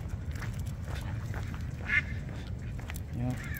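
Ducks quack faintly outdoors against a low background rumble, a few scattered calls rising over the ambient noise.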